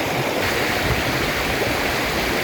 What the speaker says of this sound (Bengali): নদীর বয়ে চলা পানির ফুলুকুল শব্দ